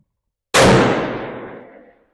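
A single sharp rifle shot from a Begara B14 HMR chambered in .300 PRC at a long-range shooting session, loud and close with an abrupt crack and a long rolling decay, no voices.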